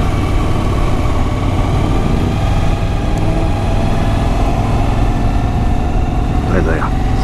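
A Suzuki V-Strom motorcycle rides around a roundabout and up through a forest, its engine a steady, close, droning hum mixed with constant wind rush.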